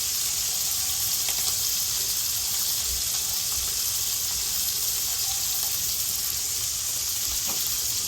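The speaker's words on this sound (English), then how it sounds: "we're bringing the couscous up to a boil. We're starting to boil now." Water for couscous coming up to a boil in a pot on the stove, a continuous hissing, bubbling rush heard close and steady with no talk.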